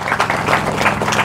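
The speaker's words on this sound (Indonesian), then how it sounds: "Tepuk tangan untuk kemerdekaan Indonesia." A crowd at an Indonesian independence gathering claps together, a brief burst of applause with a few distinct rhythmic swells, fairly close and loud, with no one speaking over it.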